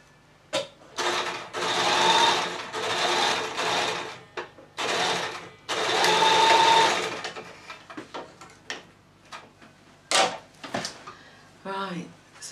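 A sewing machine stitching a tutu skirt's fabric: close, loud whirring runs in several bursts of varying length, separated by pauses, clicks and brief mechanical knocks as the stitching stops and starts.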